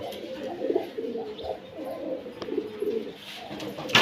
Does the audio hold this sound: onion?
no